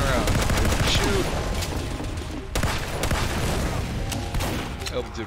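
Rapid gunfire from a scout character in a first-person shooter game, a dense burst of shots crackling loud and continuous with a brief pause midway.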